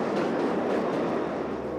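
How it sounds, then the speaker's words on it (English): A subway train passes beneath Times Square, a loud, steady rumbling roar with faint clickety-clack of wheels running through the tunnel and no break in the noise. "Here comes a train right now,"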